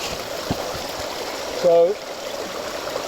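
Steady broadband rush of river water flowing at a dam runs throughout, a constant moderate wash with brief speech over it.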